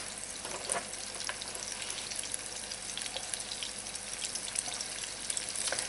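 Food sautéing in a pan over high heat, a continuous close sizzle with scattered pops and occasional stirring.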